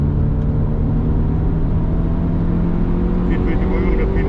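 Inside a car, the engine drones steadily after a downshift, a continuous low hum with a faint rising tone as the motor holds back the car's speed.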